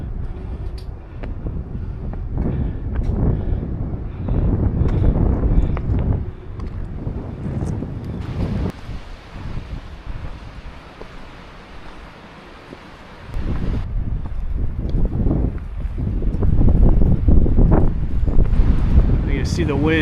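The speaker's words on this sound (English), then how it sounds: "You can see the wind." Wind blowing on a hiking trail, heavy gusting roar buffeting the microphone that fades into a quieter lull before surging back strongly.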